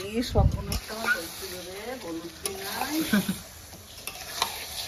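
Whole chicken leg pieces with turmeric being sautéed in a pan, a soft sizzle with stirring scrapes beneath someone talking nearby.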